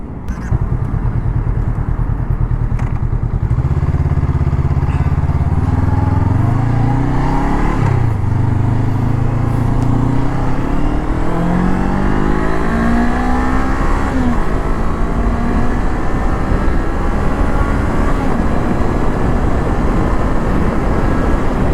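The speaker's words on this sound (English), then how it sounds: "That's how the CB500X engine pulls." A Honda CB500X motorcycle engine revs and pulls hard on a highway, its pitch climbing through successive gears, loud and close, with constant wind rush throughout.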